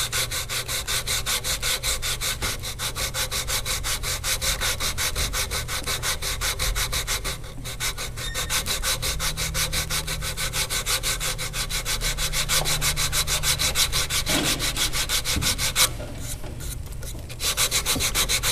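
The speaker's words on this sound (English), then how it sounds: "And you always sand now with the grain." A wooden CO2 dragster car body being sanded along the grain, steady rhythmic rubbing strokes close up and continuous throughout, with no voices.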